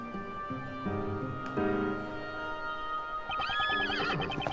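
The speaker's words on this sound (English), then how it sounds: "My horse instantly reeled back in panic, but sadly I was unable to calm it." A horse whinnies in the Professor Layton vs. Phoenix Wright: Ace Attorney video game, a clear rising and falling neigh with a few hoof clip-clops and game music tones alongside.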